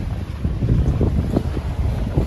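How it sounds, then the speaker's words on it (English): A strong northwesterly wind blows into a bay on the Mull of Galloway coast, buffeting the microphone with a constant low, gusty roar and no voices. "The northwesterly wind I've got coming in this bay"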